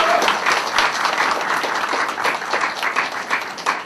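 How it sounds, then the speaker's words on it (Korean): Loud, continuous applause from supporters at a political party candidate's press conference announcing a run for the National Assembly, a dense wash of clapping that holds steady throughout. "박수 보내주십시오"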